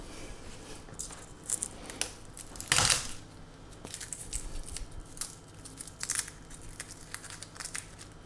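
Peeled garlic cloves crushed in a press for a creamy leek gratin, giving close crunching and squishing crackles with one loud squeezing burst, surrounded by smaller clicks and handling noises, no talking.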